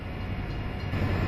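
Train from a train mod in Farming Simulator 17, a steady low rumbling rolling sound with faint rhythmic wheel thumps, continuous and fairly close, with no voices.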